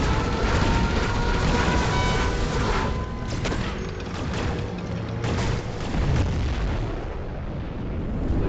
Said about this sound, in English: Allied nuclear missile launched.